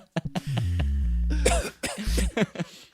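A close, deep, drawn-out cough followed by a few choppy guttural bursts, loud and rough, with no talking.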